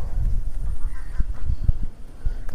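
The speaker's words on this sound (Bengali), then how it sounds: "ওখানে প্রচুর হাঁস রয়েছে" Village ducks sit and graze beside a large pit pond, giving a few short, low quacks and honks close by over a murmuring outdoor background, with no clear speech.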